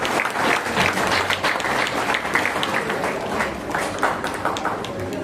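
An audience at a social gathering with people with disabilities claps loudly and steadily, a dense, continuous roar of hands sustained for several seconds with some individual sharp claps standing out.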